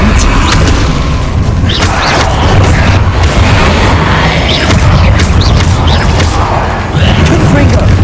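Repeated Confringo blasting spells from Hogwarts Legacy boom in loud, dense succession, with bursts layered over a constant rumbling backdrop and spell shouts.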